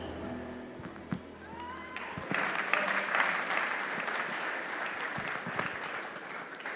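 Applause at a startup demo day, starting with a few scattered thumps and sounds of movement, then swelling after about two seconds into sustained, moderately loud clapping from a crowd that carries on to the end.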